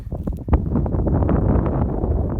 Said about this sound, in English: it's a really beautiful day today, but it's really windy.